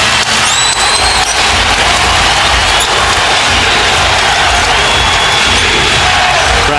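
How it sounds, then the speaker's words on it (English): Basketball arena crowd cheering during an NBA Finals game between the Pistons and Lakers, a loud continuous roar with shrill whistles and whoops rising out of it, steady throughout with no break. "Crowd on its feet."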